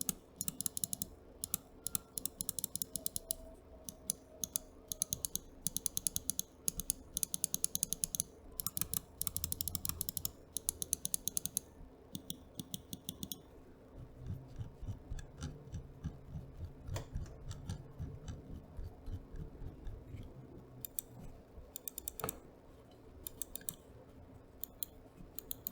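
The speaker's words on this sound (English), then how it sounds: "The switches on these triggers are Omron, which has a very satisfying tactical feel." Xtrfy M4 RGB ergonomic mouse buttons with Omron switches and side buttons, clicked in rapid irregular bursts up close, sharp tapping clicks with no talking.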